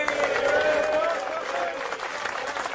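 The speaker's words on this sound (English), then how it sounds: "Give this gentleman a round of applause." A comedy show audience breaks into applause for a volunteer called up on stage, a brief burst of clapping with a voice talking over it throughout.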